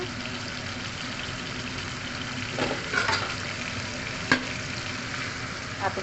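Onions and garlic frying in a generous amount of hot oil, giving a steady sizzle with a few brief scrapes of stirring. No one talks.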